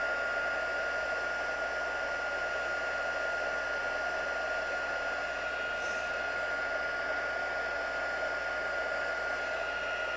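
A hair dryer blows steadily on a glued handmade Christmas card, a constant close whooshing roar with a high whine, unbroken for the whole stretch and with no talking.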